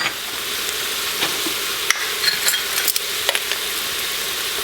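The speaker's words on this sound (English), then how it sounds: "Fry these spices a little bit and extract a little extra flavor out." Garam masala and other spices fry in a hot pot with a steady, bright sizzle. Scattered clicks and scrapes of stirring come through close by, and no one talks.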